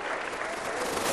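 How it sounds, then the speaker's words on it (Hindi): Audience applause at a Jain religious sermon, a dense steady wash of clapping filling the short moment at even loudness without a break. "एक बार जरा ताली बजाकर सौधर्मेंद्र के पुण्य की सराहना कीजिए"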